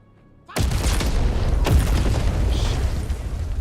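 Planted bomb charges in Medal of Honor: Above and Beyond go off in a sudden loud blast, and a sustained rumbling roar follows, with a second sharp crack partway through.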